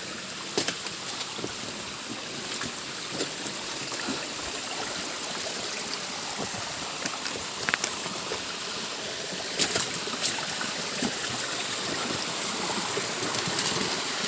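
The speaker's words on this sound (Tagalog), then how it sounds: "Ayan o, yung sapa." A creek flows over rocks in a hilly area where stone has been broken up by miners. The water rushes in a steady, continuous wash, with a few light clicks and splashes and no voices.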